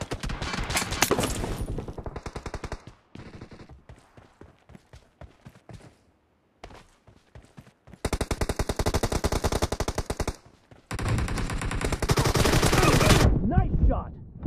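Gunfire in the PUBG Mobile video game: loud bursts of rapid automatic fire alternate with scattered single shots and quieter gaps, ending in long sustained volleys, with voice callouts in the game.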